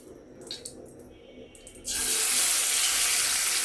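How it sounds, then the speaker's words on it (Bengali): Shing catfish slid into hot oil: after a quiet start, a loud broadband sizzle bursts in and holds steady, close by. "এখন আমি শিং মাছগুলো আস্তে আস্তে দিয়ে দিব"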